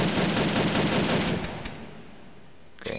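Rapid automatic gunfire in the Roblox game Call of Robloxia rattles off as a steady burst of shots lasting over a second, then stops, leaving a quiet stretch before a brief sound near the end.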